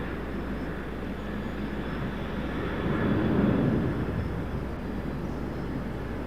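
A jet airliner lifts off at night from Raleigh-Durham International Airport, a steady broadband engine roar that swells toward the middle and eases again, heard from a distance with no talk.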